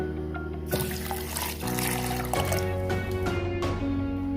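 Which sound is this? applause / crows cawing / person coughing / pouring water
pouring water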